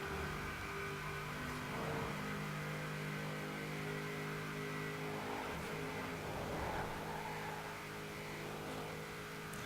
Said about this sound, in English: this is easily one of the fastest accelerating cars we've had on this series so far